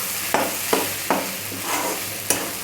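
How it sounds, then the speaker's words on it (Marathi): Chopped onions fry in a pan, cooked down for a chicken chutney, with a steady sizzle broken by about five sharp scraping stirs at a regular pace, close and clear with no talking. "बघू शकता तुम्ही, कांदा चांगला फ्राय झाला आहे"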